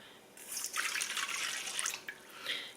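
Warm water pours steadily into a cup or bowl in a home kitchen while yeast dough for a homemade pizza is being prepared, a close, splashing trickle lasting a couple of seconds with no talk over it.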